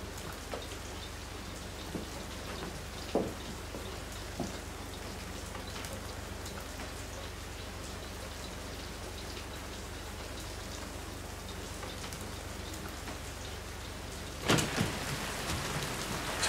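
Steady rain falls throughout, a dense even patter on surfaces with a few sharper drops and a louder burst near the end, no talking.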